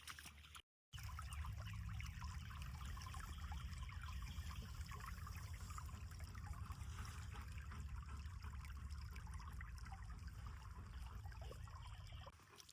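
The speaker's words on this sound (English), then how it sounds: "let's catch some stream sounds up here" A small mountain stream trickles and bubbles over rocks, a continuous close babble of water that holds steady and alone throughout, broken only by one brief dropout near the start.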